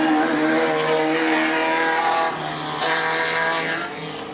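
An off-road race car on a short course at the 2018 ORANZ national finals roars past at close range, its high, buzzing engine note holding steady, then dipping slightly as it moves away.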